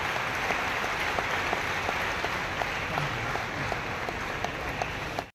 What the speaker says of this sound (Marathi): जोरदार टाळ्यांचा कडकडाट होऊ दे डॉक्टर अमोल पाटील सर आणि पूजा पाटील यांच्यासाठी